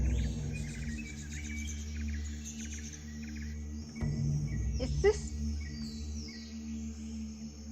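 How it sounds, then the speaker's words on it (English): Faint high bird chirps and trills repeat in the background over a low steady hum, with a brief swooping tone midway. "I hear birds chirping."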